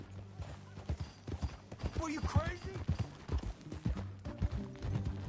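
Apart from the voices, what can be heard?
horse galloping, from video game Red Dead Redemption 2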